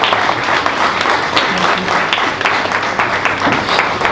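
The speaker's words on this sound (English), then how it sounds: "We can give a round of applause." Sustained, loud applause from a crowd at an award ceremony, many hands clapping in a thick continuous patter, close, with faint murmuring underneath.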